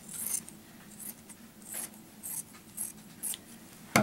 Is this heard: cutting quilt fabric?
yes